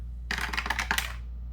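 Dice clatter across a tabletop in one quick rattling burst of small hard clicks, close and fairly faint, settling within about a second in an otherwise quiet room.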